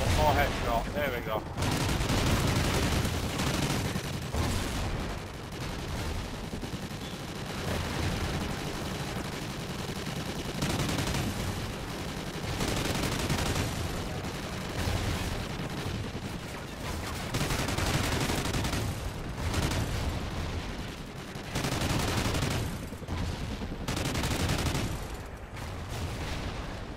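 Dense bursts of gunfire crackle through Call of Duty Ghosts gameplay, rapid volleys and single shots recurring over about half a minute, with a voice talking now and then amid the shooting.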